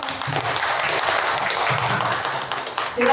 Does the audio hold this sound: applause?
yes